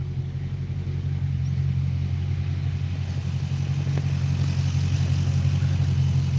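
A car engine running hard during burn-offs, with a loud, steady low drone and droning rumble that builds slightly over several seconds, without talk.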